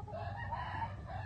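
A Clemens gamecock rooster crows once in a drawn-out, moderately distant call, set against low background noise with no talking.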